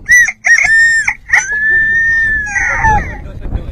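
A voice imitates a bantam chicken rooster: a few short clucks, then a long drawn-out crow, loud and close.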